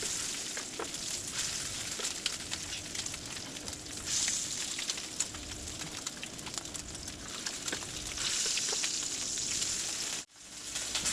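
A steady crackling sizzle of bacon frying in a pan for spaghetti carbonara, with dense tiny pops over a soft low hiss, fairly quiet and continuous.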